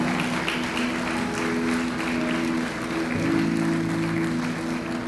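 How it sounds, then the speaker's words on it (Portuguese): A church congregation applauds steadily and loudly, a dense wash of clapping with a low hum beneath it, swelling slightly near the end. "Pode aplaudir mais forte o nome do Senhor."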